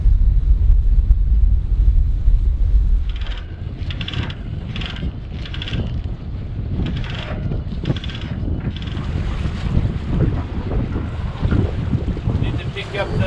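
Strong wind rushes steadily past a small sailboat out on open water, with heavy wind buffeting on the microphone, water wash underneath and a string of regular rattling bursts partway through.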